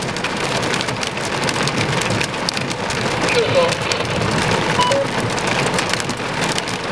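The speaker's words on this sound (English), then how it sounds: "It's still hailing." Small hail mixed with heavy rain drums continuously outdoors in a park during a storm, a dense, constant wash of impacts with no speech.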